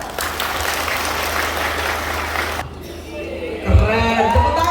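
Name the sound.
audience applause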